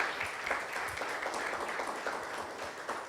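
A church congregation applauds during a Spanish-language service, with many hands clapping in a steady, crowded patter at moderate volume and no talking over it.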